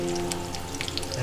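Onions frying in oil in a karahi for chicken karahi, kept pale rather than browned, a steady close sizzle with light crackle over a low background hum.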